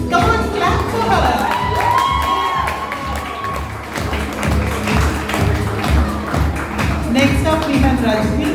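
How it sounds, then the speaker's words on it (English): Audience at a Ganesh festival ramp walk claps and cheers for a model, lively crowd with rhythmic clapping, shouts and whistles, loud and continuous, with voices mixed in throughout. "Come on, clap for her."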